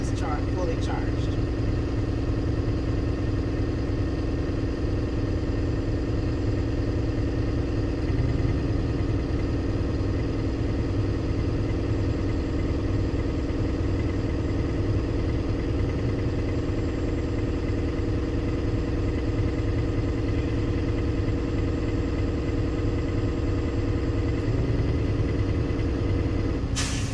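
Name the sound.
Class B truck engine revving until the governor cuts out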